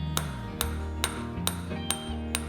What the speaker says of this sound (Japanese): 繰り返し金槌で叩いて地金を鍛えつつローラーで伸ばしやすい大きさにします